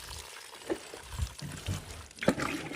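Cold water is poured over someone's body at a rural hut, giving short splashing and trickling bursts at close range, some stronger than others, over soft background noise.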